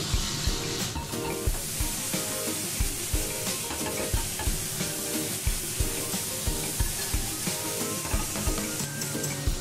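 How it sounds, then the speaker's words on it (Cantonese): Short ribs searing over high heat in a pan, with garlic and onion added and tossed, giving a loud continuous sizzle broken by regular scraping stirs throughout. "趁佢煎緊另一邊嘅時候，我就落埋啲蒜頭同埋洋葱，跟住就兜一兜佢。"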